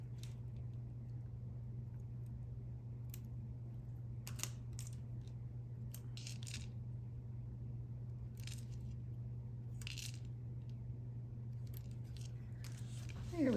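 Scissors snip out a paper sticker for a planner, a scatter of short, crisp cuts coming at irregular moments over a faint, steady background hum.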